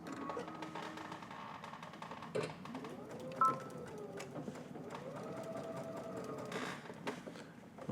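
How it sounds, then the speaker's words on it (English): Sewing machine stitching quilted puffer jacket fabric, a steady mechanical whir running throughout with slight changes in speed and a brief louder knock partway through, close and continuous without talk. "I'm stitching towards the end that's not base"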